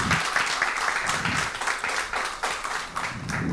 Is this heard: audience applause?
yes